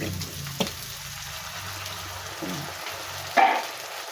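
Canned sardines drop into a pan of frying bottle gourd, giving a steady soft sizzle punctuated by a few clattering knocks and a brief louder splash near the end.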